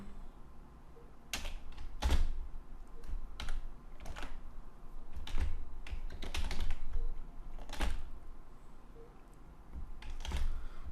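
Someone typing a short word on a computer keyboard, with sharp, close key clicks in uneven bursts, some separated by short pauses, against a quiet room.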